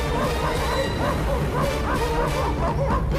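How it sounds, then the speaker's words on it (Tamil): Barking from a pack of cartoon dogs in a Tamil children's animated moral story chasing a camel and a fox: repeated yips and bow-wows over busy background music. "ஐயோ நாய்கள், உயிர் வேண்டுமென்றால் இங்கிருந்து ஓடிவிடு."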